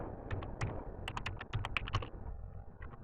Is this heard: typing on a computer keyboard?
yes